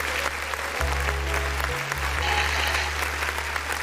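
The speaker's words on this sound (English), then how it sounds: "I went ahead and put the applause on it" Applause effect laid over a song being reviewed, a steady dense clapping wash running the whole time alongside the music's low bass tones.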